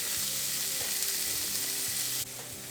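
Shrimp sauté in a hot pan, giving a loud, steady sizzle that holds constant and drops slightly near the end.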